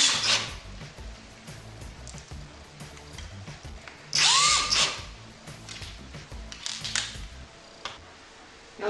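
A power drill drives screws into a Grass 830 face-mount cabinet hinge, giving short whirring bursts with a louder, sharper spin-up in the middle, mixed with handling clicks and knocks.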